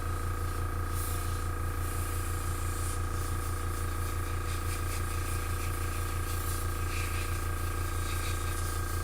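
Airbrush spraying paint onto a model in a garage, a steady continuous hiss over a constant hum, running evenly throughout with no pauses.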